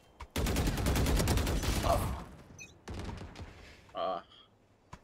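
Valorant gunfire: a long rapid burst of loud shots fills the first two seconds, followed by a shorter burst and a final single report, with faint game sounds between and no talk.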